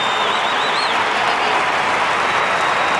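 Loud, dense roar of a stadium football crowd rising and cheering at an Australian rules match, Port Adelaide versus Gold Coast, sustained and swelling throughout with whistles cutting through.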